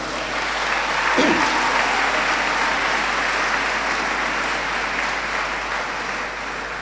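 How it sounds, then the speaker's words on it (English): Sustained applause from a large audience at a medical faculty pledge ceremony honouring graduating young doctors, a dense, steady wash of clapping that lasts the whole stretch with a brief louder swell near the start. "Give them a round of applause."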